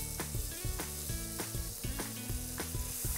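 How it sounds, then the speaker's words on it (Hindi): Chopped onion and garlic sauté in butter in a pan, a constant close sizzle heard beneath rhythmic background music for the whole stretch. "और अब लहसुन और प्याज को बटर में अच्छे से हमें भूनना है।"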